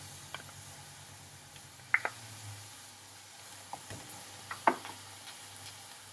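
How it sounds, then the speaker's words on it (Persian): Potatoes and onions fry in oil in a pan with a faint, steady sizzle, broken by a few sharp little pops and stirring clicks. "چند دقیقه سیب زمینی با پیازها رو با هم دیگه تفت می‌دیم"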